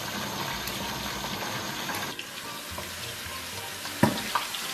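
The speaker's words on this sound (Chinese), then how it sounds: "为了防止溅油，咱们给它盖上盖，大火给它炸上5分钟。" Pork belly frying in oil over high heat under a lid, a dense continuous bubbling sizzle, muffled and even, with a sharp knock near the end.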